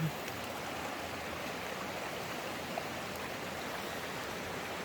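Steady broadband rush of flowing stream water, continuous and even throughout, with no voices.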